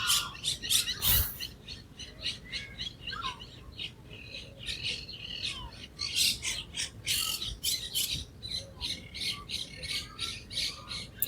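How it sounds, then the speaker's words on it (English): Outdoors beneath a small tree, birds squawk and chirp in quick repeated bursts, fairly close and clear, with calls overlapping throughout and no voices. "Can you hear the birds?"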